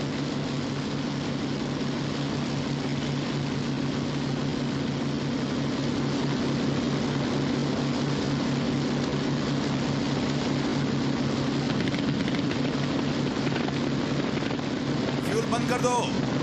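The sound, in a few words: aircraft engine running in 1954 film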